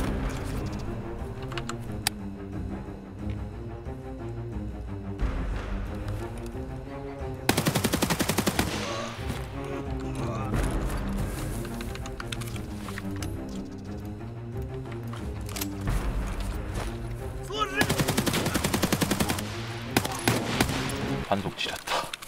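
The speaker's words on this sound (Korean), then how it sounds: "따발총 한 곳에서 총소리 너무 오래 내면 좀 그럴 것 같아서" Bursts of automatic gunfire in Escape from Tarkov, loud rapid rattling volleys in two long strings with quieter game sounds and a talking player between them.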